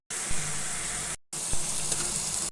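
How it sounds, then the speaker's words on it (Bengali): Chunks of ash gourd go into a pan of frying dried fish with spices, a steady hissing sizzle that cuts out briefly, then resumes with a few clinks of stirring. "চাল কুমড়া দিয়ে দিয়েছি। এখন ভালোভাবে নেড়ে চেড়ে নেব।"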